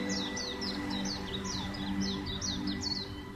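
A small bird chirps in a Hindi cartoon story, with a quick run of bright, repeated tweets over a soft background music bed, moderately near and with no talk.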